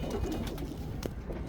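A pigeon coos in a steady, close, low murmur at a Punjabi pigeon keeper's loft, with no talk over it.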